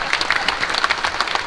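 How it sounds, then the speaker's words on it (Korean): Audience clapping together at a church lecture by a denomination's general assembly president, a steady, fairly loud burst of many hands throughout, with no talk over it. "박수."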